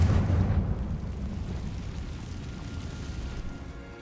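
Confringo fire spell exploding in Hogwarts Legacy, a loud booming blast with a deep low-end impact at the start that rolls into a sustained rumbling decay.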